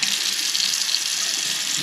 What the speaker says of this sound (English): We turn the bathroom sink on.